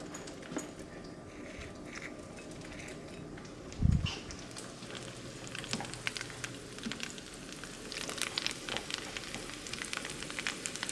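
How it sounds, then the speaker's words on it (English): Pieces of meat brown in a pan for kimchi jjigae, giving a continuous crackling sizzle with scattered pops, one dull knock near the middle, and livelier spitting toward the end. "I'm just going to brown this a little bit, kind of just to develop a crust on both sides"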